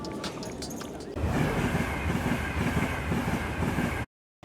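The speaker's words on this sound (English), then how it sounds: "In our train, and we've got an hour-long trip ahead of us" Inside a moving train on an hour-long trip out of Nuremberg in Germany, a steady rumbling roar of the carriage fills the space. A rhythmic low clatter runs underneath, louder after the first second, and it cuts off abruptly near the end.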